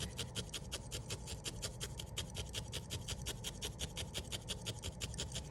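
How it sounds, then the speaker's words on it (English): Rapid, even stabbing of a coarse felting needle into wool, a rhythmic scratchy rasp repeating several times per second, close and steady with no talking. "needle felting to get it more secure like that"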